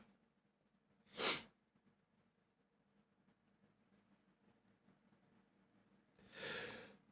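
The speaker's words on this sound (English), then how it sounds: "I'm gonna sneeze again." Two sharp, breathy sneezes from a person, a few seconds apart, over a quiet room hiss.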